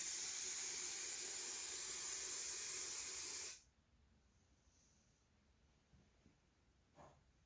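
A spray can hisses steadily and loudly for about three and a half seconds while painting a car center console panel, then stops and leaves faint room noise with a small clunk near the end.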